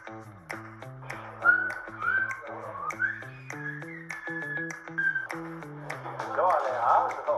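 Silbo Gomero, the whistled language of La Gomera, heard as a run of sliding, high whistled tones mixed with a voiced, speech-like melody and short taps.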